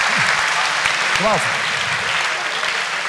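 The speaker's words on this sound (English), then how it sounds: "Give them a round of applause." A live audience claps in a sustained round of applause at a Q&A session, steady and dense for about three seconds, with a voice briefly speaking over it.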